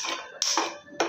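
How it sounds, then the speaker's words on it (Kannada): Gas stove burner being lit in a home kitchen with a pressure cooker on top: a few sharp ignition clicks followed by a soft whoosh, close and fairly quiet, with no talking. "ಇವಾಗ ಗ್ಯಾಸ್ ಹಚ್ಕೊಳ್ಳೋಣ"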